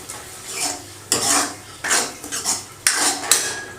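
A ladle stirs yogurt in a cooking pot while making aloo do pyaza, with repeated scraping and clinking strokes against the metal sides in uneven bursts, close and alone without talk.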